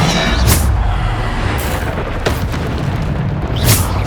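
Bombarda blasting spell explosions in Hogwarts Legacy: loud booming blasts land about every second or so over a dense rumbling battle backdrop, with no clear talk.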